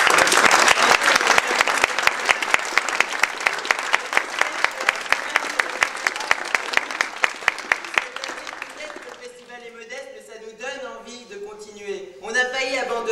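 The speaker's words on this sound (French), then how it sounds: "Je tiens à ce qu'on adresse un applaudissement tout de même à la mairie de Métré" Audience claps steadily in honour of the town hall of Métré, for about eight seconds of sharp, rhythmic clapping that settles into unison beats, then gives way to a voice speaking.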